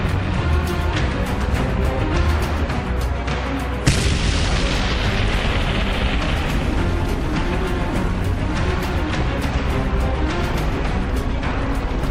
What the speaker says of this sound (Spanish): Le dispara a uno de los cañones antitanque de Rokossovski.